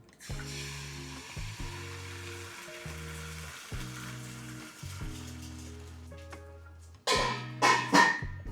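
Steak and eggs frying in a pan give a soft, constant sizzle that rises louder near the end, heard beneath steady tonal background music.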